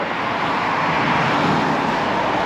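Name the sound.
heavy road traffic at night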